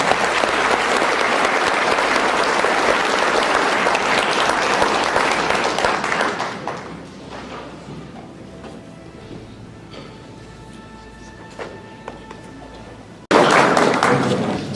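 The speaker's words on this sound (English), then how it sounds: "A round of applause" Audience applause at a lecture, loud and sustained from many hands for about six seconds before fading to quiet room tone with faint tones, then a sudden loud burst of clapping returns near the end.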